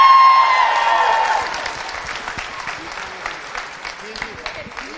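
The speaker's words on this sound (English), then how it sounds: "Up, we gotta do a cheer." Crowd at an All-Ireland U23 hurling championship final in Limerick applauding, a loud burst of clapping and cheering at the start that settles into lighter scattered claps with some voices.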